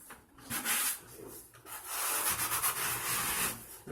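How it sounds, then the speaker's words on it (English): A grout float dragged at an angle across a slate tile wall to scrape off excess grout, giving long rough rasping strokes with a brief pause between them, close and moderately quiet. "Hold your float at an angle, 45, and really dig it in there."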